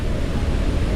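Niagara Falls thundering close by during a Maid of the Mist boat tour, a loud dense unbroken roar of falling water and spray filling the whole moment without voices.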